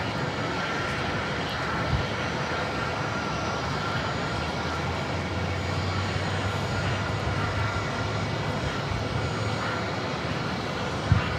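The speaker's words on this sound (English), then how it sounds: "This arrival is American Airlines 3171 coming in from Chicago on the 737-800." An American Airlines Boeing 737-800 arrives at Phoenix Sky Harbor from Chicago, its steady broadband engine roar filling the air at an even, sustained level throughout with no talk.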